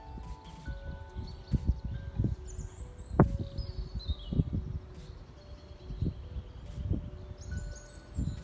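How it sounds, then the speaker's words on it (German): Birds chirp and sing faintly in the distance over a steady outdoor hum on a hike around Laacher See in the Eifel, Germany, with scattered low thumps and rustling nearby. "Und wir hören total toll die Vögelchen singen."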